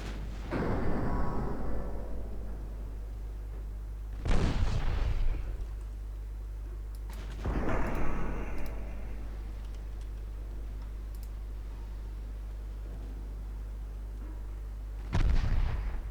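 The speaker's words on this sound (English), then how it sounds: "if only I can get my guns to actually fire" Naval guns fire in the Ultimate Admiral Dreadnoughts warship game, set in an 1895 campaign. Four heavy booms with rumbling decay sound several seconds apart over a constant low hum, with no talking.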